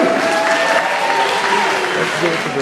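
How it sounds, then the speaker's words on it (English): A high school crowd at a hypnotist show applauds a contestant onstage, with steady clapping mixed with whoops and shouting voices throughout. "by show of applause, we need to determine a winner"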